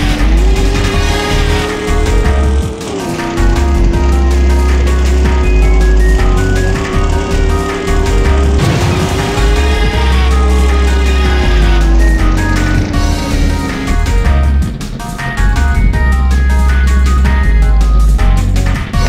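Panoz IRT race car with NOS in Midtown Madness 2, a loud steady engine drone that rises in pitch through the gears with brief drops at each shift, continuous and close throughout.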